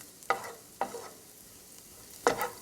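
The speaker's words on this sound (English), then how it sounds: "So I'm just gonna give that a little stir, make sure it gets in the oil there." Minced garlic is stirred in hot oil, three distinct utensil scrapes against the pan over a soft background sizzle, close and fairly quiet, with no talking.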